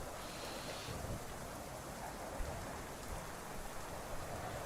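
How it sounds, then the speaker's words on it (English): Rain falls in the DCS World flight simulator, a steady, even hiss of drops with no voices, holding at a constant level throughout. "It's just raining."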